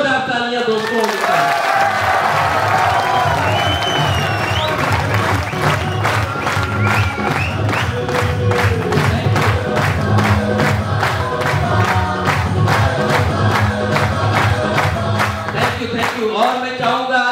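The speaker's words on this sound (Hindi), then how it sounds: "Godfather mister Sanjay Rao sir के लिए जोरदार तालियां दोस्तों।" An audience at a motivational event in India applauds loudly, a dense sustained roar of clapping with cheering mixed in, joined partway through by rhythmic unison claps, while a voice speaks over the start.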